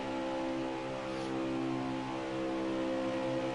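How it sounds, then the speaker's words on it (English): A Mustang idles in a racing video game, a steady, even engine hum holding one tone throughout, continuous and unbroken with no other sounds. "That's a good steady purr from that Mustang."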